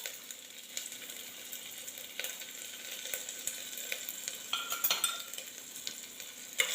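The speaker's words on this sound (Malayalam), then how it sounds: "നെയ്യ് ചൂടാവുമ്പോൾ നമുക്ക് ഇഞ്ചി അരച്ചതും വെളുത്തുള്ളി ചെറുതായി അരിഞ്ഞതും ഇതിലേക്ക് ചേർത്ത് കൊടുക്കാം" Ginger paste and finely chopped garlic frying in hot ghee: a steady close crackling sizzle with scattered sharp pops and light spatula scrapes, moderately quiet and without speech.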